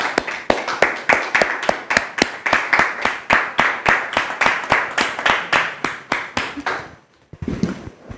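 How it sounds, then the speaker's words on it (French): Rhythmic clapping from an audience welcoming brother Hervé Niato: loud, evenly paced claps in a steady beat for about seven seconds, then stopping abruptly, followed by a brief murmur. "Merci de recevoir le frère Hervé Niato sous vos applaudissements"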